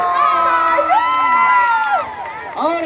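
Crowd at a motocross final cheering and shouting, with children's voices among them and a loud rising whoop that swells and falls, then briefly dips before another shout.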